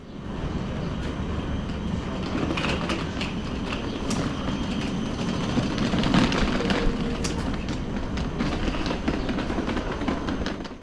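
An ÖBB Railjet, a fixed nine-coach passenger train, rumbles along the rails with a steady, moderately loud roll and scattered clicks and squeals from the wheels, with no talking.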